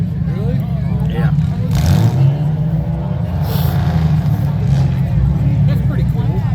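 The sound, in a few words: demolition derby car engines revving, shifting and gassing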